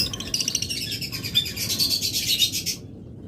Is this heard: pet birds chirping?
yes